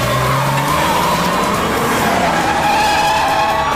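A red sports car skidding in a police chase, loud squealing tires with a roaring engine whose pitch bends and shifts, close and intense throughout.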